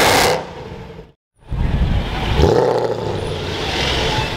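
A Lamborghini sports car's engine roars loudly, cuts out briefly to near silence, then comes back with a rising, throaty revving rush close by.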